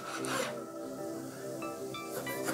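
A real replica CS:GO knife saws through food while cooking, making a rough, repeated rasping scrape with short metallic squeaks, close and moderately loud, with no talk.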